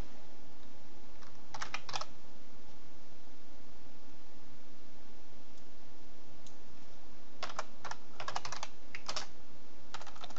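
Computer keys are typed in short bursts of quick clicks, separated by pauses, over a steady background hiss and hum.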